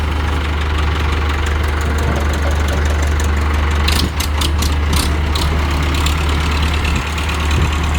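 A used Ford 6600 tractor's diesel engine idles close up, a loud, steady low rumble with a faint knocking texture and a short clattering burst midway; no speech.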